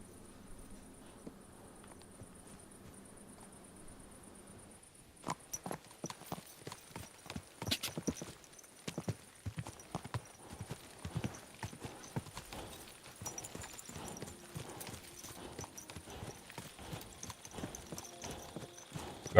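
Horse hooves clip-clopping in the video game Kingdom Come: Deliverance II, beginning after a quiet stretch and then continuing as a steady, close walking rhythm of crisp, distinct hoof strikes, with faint game ambience beneath.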